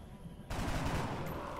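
A sharp, loud burst of video game gunfire in XCOM: Enemy Within erupts suddenly and then keeps going as a dense, sustained volley of shots.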